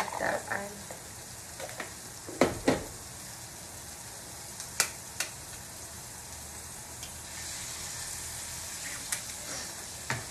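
Garlic and eggs fry together in a pan with a soft, continuous sizzle, broken by several sharp clicks and taps from the utensils.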